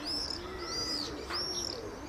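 Young pigeons, squabs just learning to fly, give soft repeated coos with thin chirping calls layered above, close and steady across the whole short stretch with no talking.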